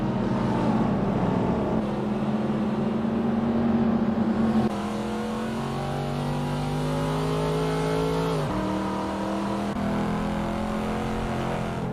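Race cars lapping Canadian Tire Motorsport Park in a sim racing game: loud, steady engine drone with rising and falling revs and gear changes, several cars close together, no talking.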